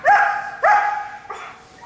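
A breeding female dog in protection training barks during bark and hold bite work: two sharp, close barks in quick succession, then a softer third bark.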